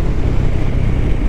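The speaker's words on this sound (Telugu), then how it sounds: "చల్ల గాలి వస్తుంది, మంచి బెటర్." Wind buffets the microphone during a motorcycle ride on the road to Rishikesh, a loud, steady low rumble with no break.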